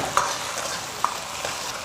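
Shrimp stir-fried in lard with ginger, scallion and garlic sizzle quietly in a wok, with two sharp spatula clinks and a softer scrape over the frying hiss.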